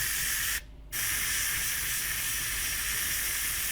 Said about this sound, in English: we're just going to spray a little bit just down in there